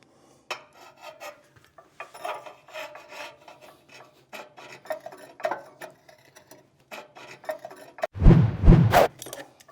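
Metal scraping and rasping as a rear secondary air tube slides into place in a Regency stove, with irregular clinks and rubbing, ending in a louder grinding burst.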